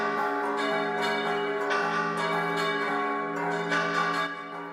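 Church bells ringing steadily from a large church, a sustained, layered metallic ringing with overlapping tones that carries on throughout without pause.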